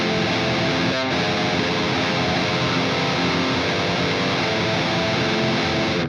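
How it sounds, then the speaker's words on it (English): Heavily distorted electric guitar strums close-voiced root, third and fifth chords, a dense, muddy and continuous wall of sound played loud and alone, with one brief break near the start. "If we tried to play the same thing in a close grouping, where we played root 3rd, 5th, it might sound a little bit of a mess."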